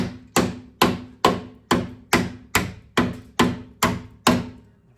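Ten sharp hammer blows land at a steady, even pace, flattening metal on a rusty Toyota Tacoma frame, each ringing briefly before the next strike, close and loud.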